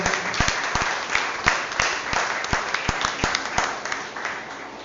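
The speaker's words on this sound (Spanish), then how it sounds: "Den un fuerte aplauso al Señor." Applause from a church congregation, a steady wash of clapping with distinct individual claps standing out, gradually thinning toward the end.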